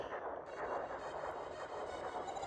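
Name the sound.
shooting at bases in the video game Star Fox 2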